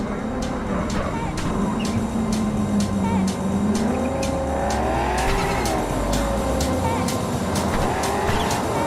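A car in the video game Cyberpunk 2077 drives with a steady engine roar, its pitch rising and falling, and tires squeal intermittently throughout, loud and close with a faint rhythmic ticking behind.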